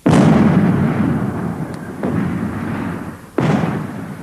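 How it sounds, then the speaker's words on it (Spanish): A tank's 105 mm cannon fires, a loud blast that rolls into a long rumble, then a second sharp report near the end, with no talking. "Cuando disparas este cañón de 105 milímetros, toda la torreta se llena con la explosión."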